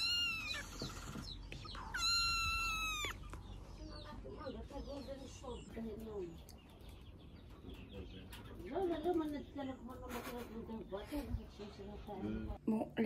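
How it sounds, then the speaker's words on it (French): Newborn kittens on a farm in Madagascar give high, thin mewing cries in short bursts near the start and again later, faint and close, mixed with birds clucking nearby and people talking. "Et ici, on a des chatons qui viennent de naître."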